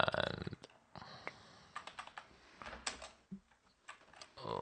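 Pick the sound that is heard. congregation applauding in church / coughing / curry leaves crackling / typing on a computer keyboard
typing on a computer keyboard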